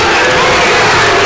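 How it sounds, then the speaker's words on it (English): Basketball arena crowd booing a referee's call during a college game, Illinois against Arizona, a dense, loud, sustained roar of disapproving voices filling the whole moment without a break. "Fans still booing over that last call"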